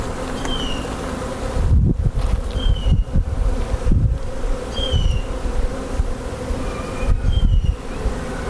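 Dense buzzing of honeybees from a nuc colony being installed into a hive, a steady close drone with occasional louder low thumps and rustles as frames are handled, no talking.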